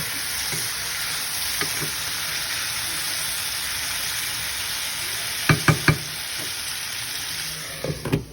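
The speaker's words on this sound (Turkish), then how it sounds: "Bir güzel karıştırıyoruz." Chicken fries in a pan with a loud, continuous sizzling hiss, interrupted by a few sharp stirring knocks of a utensil against the pan near the end; no talking.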